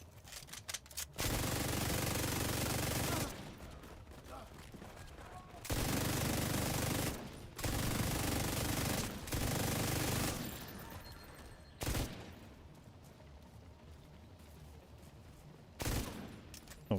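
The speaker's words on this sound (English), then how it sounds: "I don't know why I'm pulling out my minigun" Sustained bursts of minigun fire in a video game, several long loud roaring volleys separated by short gaps, close and dominant with no talk.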